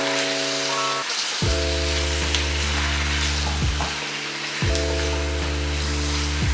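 Vegetables sizzle steadily in a hot pot, a loud continuous crackle with faint stirring scrapes, under a steady kitchen hum.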